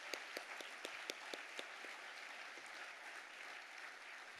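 An audience at an anniversary gala applauds, a dense wash of clapping with a few distinct sharp claps standing out early, moderately distant and sustained throughout.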